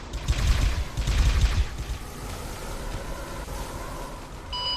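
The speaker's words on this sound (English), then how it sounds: "So one of them's on this turret trying to fire it." Turret gunfire in Arma 3, a burst of rapid heavy shots for about two seconds that then fades into a rumbling mechanical background.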